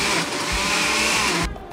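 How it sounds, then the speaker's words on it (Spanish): Blender running steadily on softened boiled cassava with an egg for buñuelos, a loud continuous motor whir with grinding churn that stops abruptly near the end, no voices. "Cuando la yuca está blanda, la pone en la licuadora."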